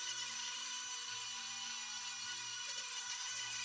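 A grinder sanding a mask sculpted from 3D pen filament gives off a steady, continuous abrasive whir that stays near and even throughout, with no voices.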